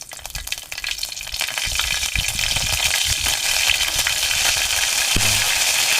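Garlic paste hits hot oil with a loud, dense frying hiss that swells quickly and holds steady, close up with no voices.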